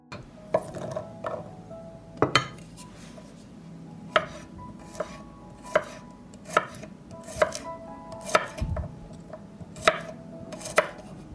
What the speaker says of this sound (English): will mince 4 cloves of garlic